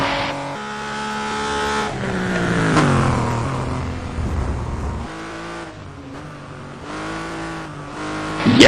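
An STC touring race car powers past at the Le Mans circuit, its engine note climbing and falling in loud, close sweeps through gear changes, with a final surge of revs and no voices.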